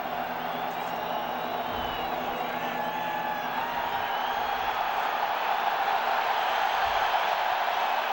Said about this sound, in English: deafening already the crowd here at the stadium